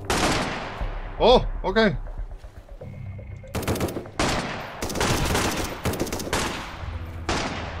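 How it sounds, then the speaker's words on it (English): Benelli shotgun blasts in Sunkenland during a battle for a ruins island: sharp, heavy shots boom one after another after a short spoken remark and some tonal game sounds earlier on. "They are bombarding with that Benelli."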